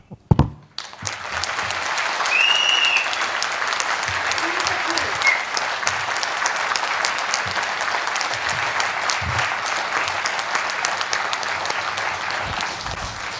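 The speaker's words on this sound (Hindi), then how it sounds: "तालियां बजा रहा हूं अभी आप लोगों के लिए" A large audience breaks into loud, sustained applause that continues steadily for over ten seconds.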